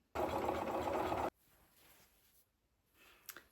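A sewing machine runs in one steady continuous burst while stitching pieces of a mini quilt wall hanging, loud and close, then stops, leaving faint room noise and a few small handling clicks.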